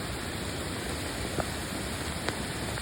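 Heavy rain pours steadily onto a road, a dense, even hiss with no break across the short stretch and a couple of faint drip-like ticks.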